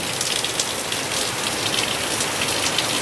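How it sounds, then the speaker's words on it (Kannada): Heavy rain falls steadily and densely, a continuous loud hiss of drops on surfaces with no voices and no breaks. "ಇದು ಇವತ್ತು ಬಿಡುವ ಹಾಗೆ ಕಾಣುವುದಿಲ್ಲ ಮಳೆ"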